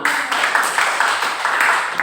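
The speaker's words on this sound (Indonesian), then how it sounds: "tepuk tangan dulu buat Muhammad" Classroom applause for a student during a microteaching lesson, a steady patter of many hands clapping close by for a couple of seconds, no talk over it.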